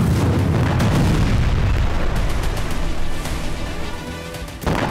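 A deep, rumbling blast at an Iranian base, with a heavy low-end roar that rolls on for several seconds, fading slightly before a second thud near the end.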